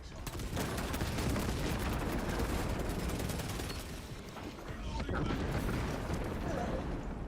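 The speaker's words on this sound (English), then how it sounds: "throwing shock grenade" A shock grenade goes off amid heavy video game gunfire, dense continuous blasts and shots layered over one another in a loud, chaotic firefight.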